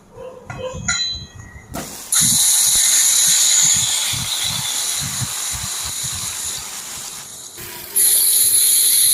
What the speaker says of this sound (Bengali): ভাজা হয়ে যাওয়ার পর এবার দিয়ে দেব মেখে রাখা ঢেঁড়স ভেন্ডি